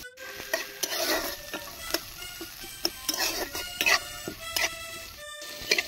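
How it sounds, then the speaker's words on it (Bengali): Chopped onions frying with a banana flower mixture in a pan for cutlets, a steady sizzle broken by repeated scraping stirs and metal clinks, close and clear with no talk. "এবার দিয়ে দিচ্ছি কেটে রাখা পেঁয়াজ।"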